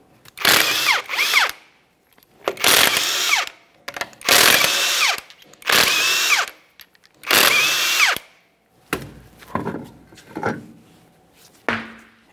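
Power tool spinning off five 21mm lug nuts from a Kia Forte Koup wheel, five loud whirring bursts with pauses between, followed by quieter clattering handling sounds and a short final burst.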